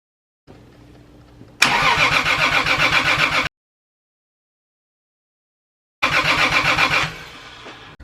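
A Toyota Supra engine on a Speeduino ECU cranks hard in two bursts, a quiet electrical whir first, then loud rhythmic starter-driven chugging that cuts off abruptly, then after a pause of silence another close, loud cranking burst that fades.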